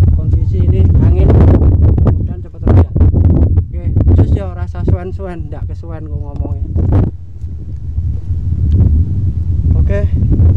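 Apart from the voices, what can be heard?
strong wind blowing over reservoir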